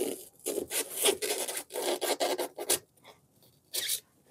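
Rapid rasping strokes of a blade sawing through stiff, spongy cured spray foam, coming in quick back-and-forth bursts, close and fairly loud, with brief pauses.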